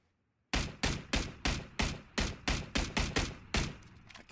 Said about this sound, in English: I was just shooting through the trees